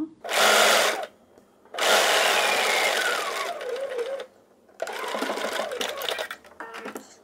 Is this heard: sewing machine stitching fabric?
yes